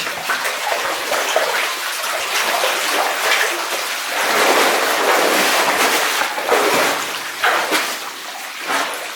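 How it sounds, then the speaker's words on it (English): Water pours and splashes steadily nearby, a constant rushing spatter from a small waterfall in an underground gold mine, echoing slightly in the enclosed space. "There's a bit of a waterfall here on my left."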